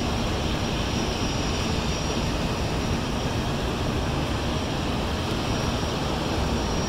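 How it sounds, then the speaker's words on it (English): Airplane taxiing toward the runway at Zurich airport, a steady broadband engine roar with a faint high whine, continuous and fairly loud throughout with no voices. "And another one is about to get onto the runway."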